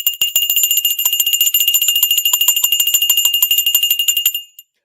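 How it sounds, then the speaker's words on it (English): Bell rung on a trading show to celebrate a stock reaching 52-week highs: a rapid, steady run of bright metallic strikes that lasts about four seconds, loud and close, then stops abruptly. "let's ring the bell again for SoFi"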